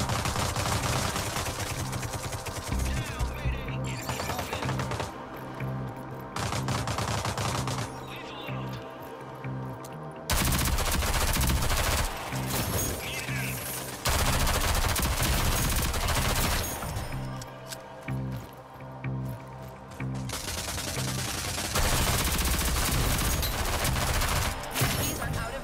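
Heavy gunfire and automatic weapon bursts from a Rogue Company online shooter match on PS5, loud sustained volleys broken by brief lulls across the whole stretch, with players talking intermittently underneath.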